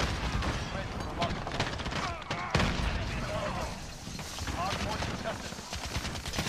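Shotgun fire in a Call of Duty: Modern Warfare (2019) match, rapid overlapping blasts and bursts of gunfire mixed with other combat noise, running steadily under excited voices.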